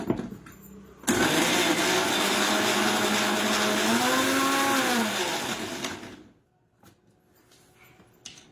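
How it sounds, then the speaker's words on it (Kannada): A mixer grinder blends gulkand with ice cream in a small jar, running loud and steady for about five seconds with a pitch sweep as the load shifts, then cutting off into quiet. "ಮಿಕ್ಸಿ ಜಾರ್ ದೊಡ್ಡವು ತಗೊಂಡ್ರೆ ಒಂದೇ ಸಲ ರುಬ್ಕೋಬಹುದು"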